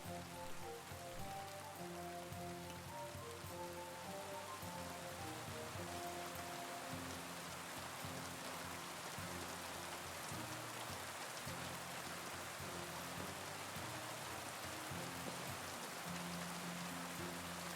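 Steady rain falls in the medieval game Kingdom Come Deliverance 2, a dense, even hiss of drops running for the whole stretch, with a plucked musical line and low tones playing softly beneath it.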